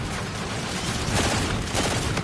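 A burst of gunfire from a legendary G-Rail weapon in a video game, one dense, loud rattling volley that continues for about two seconds with no pause.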